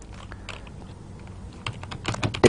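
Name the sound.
typing a command on a computer keyboard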